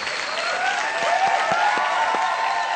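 Dense applause from a crowd fills the whole stretch, steady and fairly loud with a busy, continuous texture and no talking.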